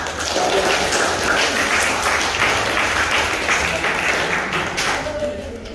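Classroom applause from students, a dense steady burst of many hands clapping close by for about five seconds, fading slightly at the end.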